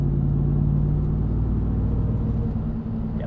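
A 2021 Ram 1500 TRX pickup in sport mode driving at night, with a deep steady engine rumble and road drone heard from inside the cab, continuous and fairly loud.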